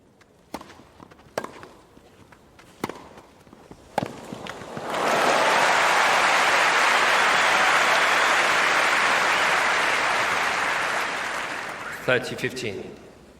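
A crowd bursts into loud, sustained applause and cheering that swells suddenly after a few sharp knocks, holds steadily for several seconds, then fades back to scattered clicks.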